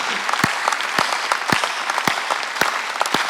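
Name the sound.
congregation clapping loudly in church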